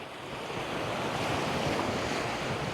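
Surf rolls onto a sandy beach in Thailand, a continuous broad wash of breaking waves mixed with wind noise, steady and fairly loud with no voices.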